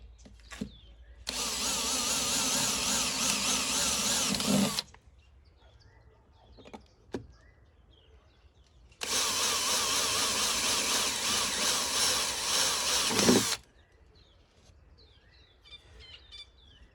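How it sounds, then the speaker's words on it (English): A power drill bores into steel on a Land Rover Defender in two long bursts of several seconds each, loud and steady, with quiet pauses and faint clicks between; birds chirp faintly in the background. "You might wonder why I'm drilling the way I'm drilling."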